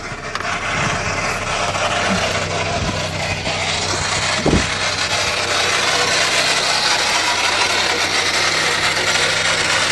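A 1999 Plymouth Neon engine runs with the clutch out, producing a harsh, continuous grinding rasp with a steady low drone and a couple of brief knocks, loud and heard from close by.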